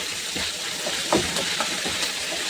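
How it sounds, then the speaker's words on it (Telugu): Curry leaves crackling in hot oil after dried red chillies for a Telugu chukka kura dal tempering: a steady hiss with small spitting pops scattered through it. "కొద్దిగా కరివేపాకు కూడా మనం దాంట్లో వేసుకోవాలి."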